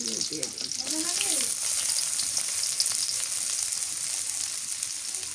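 Sliced onion hits plenty of hot oil and fries with a loud, continuous hiss. A brief voice is heard at the very start.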